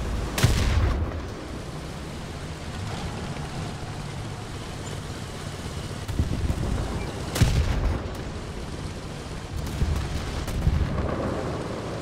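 Gunfire and booming cannon shots in War Thunder around a Swedish LVTDGB m/40 armored truck, with a few sharp heavy reports standing out over a steady engine-like rumble and smaller bursts scattered between them.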